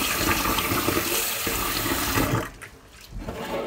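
Tap water runs strongly over rice being washed in a sink, a dense splashing rush that suddenly thins as the flow is cut back, leaving softer trickles and drips.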